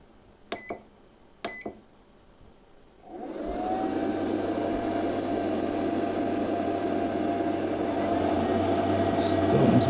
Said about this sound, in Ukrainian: Чуємо, що запустилися обидва вентилятори.